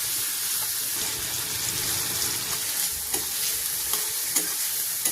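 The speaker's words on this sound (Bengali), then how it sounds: "মা সুন্দরভাবে কষিয়ে নিচ্ছে তরকারিটা।" Salted fish curry with mustard and poppy seed is sautéed in a pan, a continuous soft sizzle broken by occasional sharp spatula scrapes and taps.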